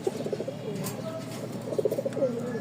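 Pigeons kept for sale in a Mirpur, Dhaka market coo in soft repeated low phrases, close by, with faint background chatter.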